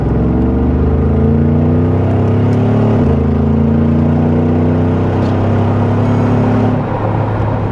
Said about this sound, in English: Listen, the acceleration.